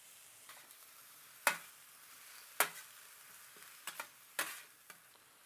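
Garlic tossed in with onions that are already browning in a hot pan, sautéing with a soft sizzle broken by a few sharp stirring scrapes and clinks close by.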